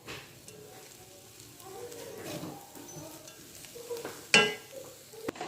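A spoon stirs grated carrot into a cooking chicken mixture in a pan, with soft scraping and faint sizzling, a sharp clink of utensil on the pan near the end.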